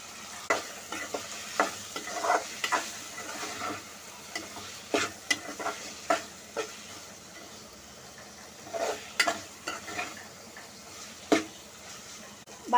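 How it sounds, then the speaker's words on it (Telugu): Potato pieces fry with ginger-garlic paste in a pan for aloo kurma, a low sizzle under frequent sharp scrapes and taps of a stirring spoon against the pan, close and irregular, with no voices. "అల్లం వెల్లుల్లి పేస్ట్ వేగింది కదండి, ఇలాగ బంగాళదుంపలు ముక్కలు చేసి వేసుకోవాలి."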